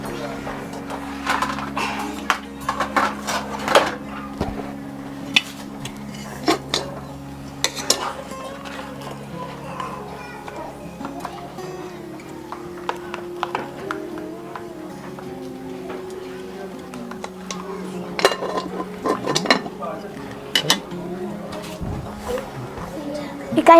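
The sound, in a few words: plates and cutlery clattering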